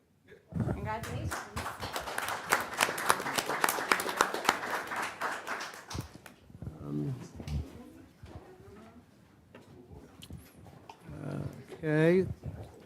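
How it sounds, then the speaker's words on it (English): Clapping at a borough council meeting, a dense burst of claps for several seconds, then scattered claps under people talking nearby. "You're clapping for the chief"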